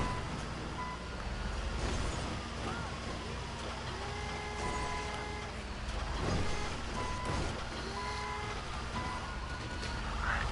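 Reversing beeps repeat steadily from a bulldozer in the GTA 5 game, sounding over a loud, continuous diesel engine rumble with intermittent clanks and bumps throughout.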